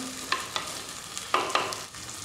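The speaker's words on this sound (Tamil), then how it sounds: "தக்காளியும் போட்டு நல்லா வதக்கி விட்டுருங்க" Chopped tomatoes being sautéed in a pan for a Tamil egg curry, a soft steady sizzle with a few scraping stirs of the spoon against the pan, no talking.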